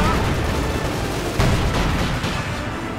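Heavy mortar blasts and gunfire from the World War II strategy game Company of Heroes 2, a dense continuous battle din with one sharper impact near the middle, with no talk over it.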